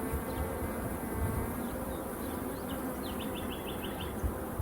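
A honey bee swarm drones steadily around a hive, a dense continuous buzz with no breaks, accompanied by faint high chirps from birds or insects.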